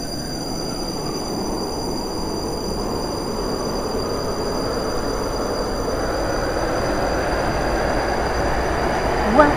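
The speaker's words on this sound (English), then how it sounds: "The train now approaching Platform 9 terminates here." A train rumbles steadily into a station platform in the Roblox game Stepford County Railway, a broad continuous roar of wheels on rails with a steady electric whine above and a faint squeal near the end.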